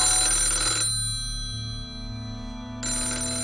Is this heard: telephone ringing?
yes